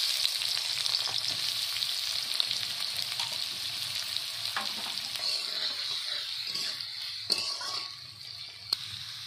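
Chopped onion and whole cumin fry in hot oil for chicken biryani, giving a steady close hiss and sizzle with a few faint clicks and stirring knocks. No one speaks.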